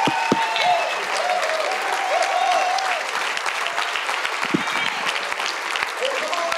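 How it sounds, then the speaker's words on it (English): A church congregation applauds continuously, a dense, steady clapping with crowd noise and occasional cheers, moderately loud and sustained throughout. "Give Jesus a hand clap in the house."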